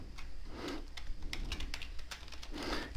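Typing on a computer keyboard while entering a street address into a form, a fast run of close, light key clicks with a steady background hum.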